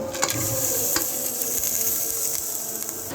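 Spices being added one by one to hot mustard oil for bhuna khichuri, giving a continuous close sizzle with faint stirring scrapes and small clicks, with no talking.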